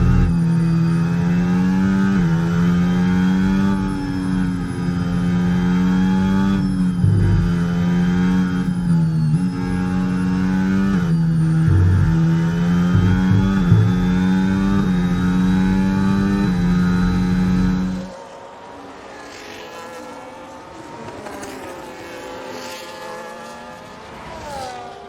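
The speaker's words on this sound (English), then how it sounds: "We now ride on board with Yuki Tsunoda" An onboard Formula 1 engine in the F1 25 video game at Jeddah screams loudly through rapid gear shifts and revs for most of the stretch, then cuts away abruptly to quieter, distant engine noise near the end.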